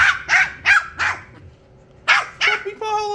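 Nine-week-old puppies bark in a run of sharp, close yaps, several quick barks, a short pause, then more, with a high whining tone at the end.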